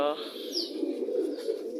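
A pet pigeon, recently treated by a vet and now healthy, gives a low, soft coo that carries steadily through the short moment, close by and fairly quiet.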